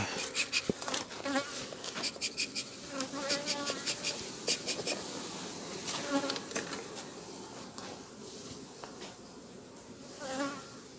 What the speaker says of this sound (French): les abeilles stagnent là, à cette heure-ci, à cause du frelon